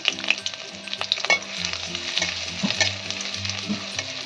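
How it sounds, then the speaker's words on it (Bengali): Chopped ginger and lightly fried garlic sizzle in hot oil, a steady crackling fry with occasional stirring scrapes and faint tonal clinks over a low background hum, no voices. "আদাটাও ভেজে নেব সুন্দর করে"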